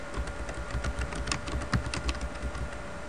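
Fingers tapping out a passphrase on a laptop keyboard, a quick uneven run of close, crisp key clicks over a faint steady hum, with no talking.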